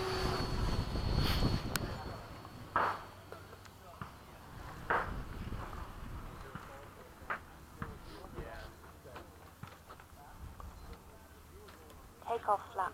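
An FMS 70mm F/A-18 electric model jet performs a touch and go, its ducted-fan whine rising and falling in the open air at moderate loudness, with a voice talking over it.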